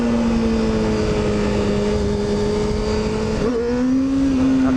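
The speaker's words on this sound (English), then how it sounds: "I'm just gonna see what happens when I roll onto second gear." A motorcycle rolls on the throttle in second gear, its engine note a loud steady drone that climbs gradually, dips briefly, then picks up again close to the microphone.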